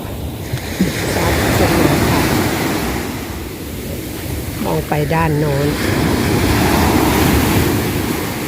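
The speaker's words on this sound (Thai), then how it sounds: "ดูคลื่นก็ยังถาถมเข้ามาที่ชายฝั่งนะคะ ลูกแล้วลูกเล่า" Ocean waves at Bang Saray beach in Sattahip, Chonburi at sunset, a broad steady roar of surf rolling onto the shore, with wind buffeting the microphone and someone briefly speaking midway.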